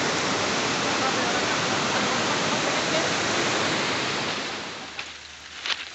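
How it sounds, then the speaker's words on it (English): A stream of water flows beneath a railway track as a loud, steady rushing wash that eases off near the end, with a couple of faint clicks. "Here's a beautiful stream of water flowing beneath the railway track."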